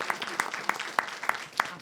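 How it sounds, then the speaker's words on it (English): At a New York State public hearing on reparations, an audience claps in a quick, fairly regular rhythm. The sharp claps land about every third of a second under a busy room murmur. "Let's give them another round of applause."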